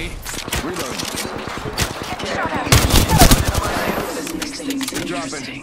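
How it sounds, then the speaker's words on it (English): Rapid gunfire from the Apex Legends video game, with dense bursts of automatic shots and single cracks, loud and close, with players' voices talking over the shooting. "Shot fired."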